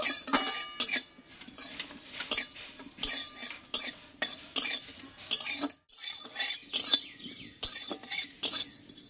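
A utensil stirs and scrapes pointed gourd and stems lightly frying with panch phoron in a frying pan, sharp clinks repeating in a quick, uneven rhythm over a soft background hiss.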